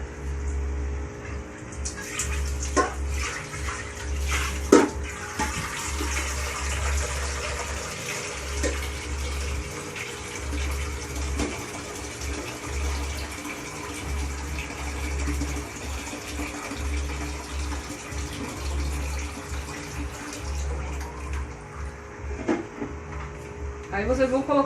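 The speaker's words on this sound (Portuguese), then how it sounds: "E agora vou pôr água, né?" Water runs steadily into a cooking pot for chicken soup in a home kitchen, a continuous splashing pour with a low steady hum, lasting over twenty seconds with occasional clinks.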